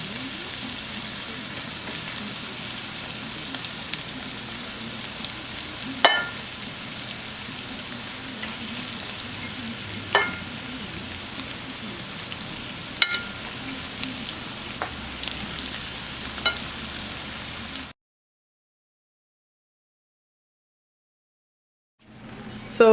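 Cassava fries in olive oil in a pan with a steady, close sizzle and scattered sharp pops, then cuts off abruptly into silence near the end.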